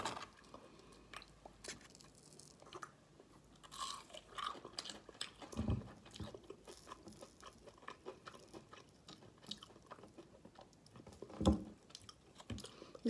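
Someone chews McDonald's chicken nuggets up close at a German McDonald's meal, with soft, irregular crunching and squishing bites and a few louder crunches spread across a quiet stretch.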